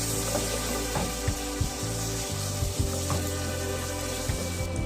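A spoonful of tomato paste sizzles in a pot with stuffed cabbage rolls, a loud, steady frying hiss close by, broken by a few soft clinks and bumps of a spoon stirring.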